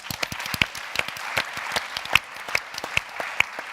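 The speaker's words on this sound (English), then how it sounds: "I think they deserve a round of applause" A conference audience at a women's summit gives a round of applause, scattered and fairly sparse clapping from a moderate crowd, with individual sharp claps standing out from the steady patter.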